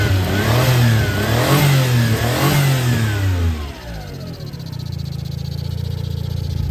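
A kei car's small engine revs up and down in loud, repeated sweeping bursts nearby, then drops back to a steady, throbbing idle.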